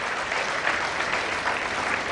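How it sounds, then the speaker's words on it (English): Steady audience applause fills a hall at an inter-school debate, dense and sustained clapping throughout the short stretch with no voices over it. "a big round of applause for everybody present in the hall."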